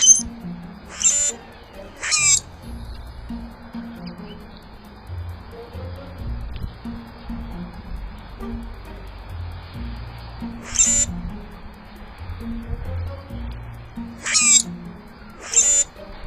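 A common grackle gives short, harsh, squeaky song bursts in pairs, several seconds apart, over a quiet low rumble of background noise.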